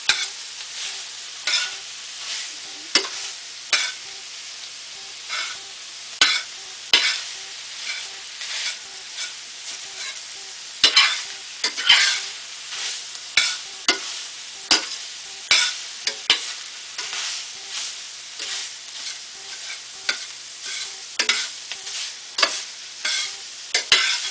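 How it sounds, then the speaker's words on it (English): Ground beef browning in a hot pan sizzles steadily while a utensil pushes and scrapes it around in frequent irregular strokes, close and clear with no talk. "Let it cook for a while. Mix its own juice. Push it around the pan."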